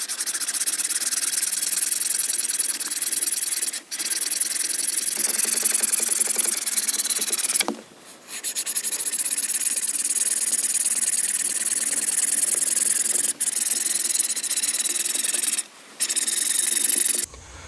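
Close, steady rasping of a UST folding wire survival saw cutting through wood, continuous back-and-forth strokes broken by a few brief pauses, with no talking.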